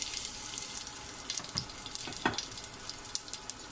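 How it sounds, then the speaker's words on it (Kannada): Curry leaves sizzle in hot oil after mustard seeds for a bread masala tempering, a steady close frying hiss with scattered small crackles and pops. "ಒಗ್ಗರಣೆ ಸೊಪ್ಪು ಹಾಕೊಳ್ತಾ ಇದ್ದೀನಿ."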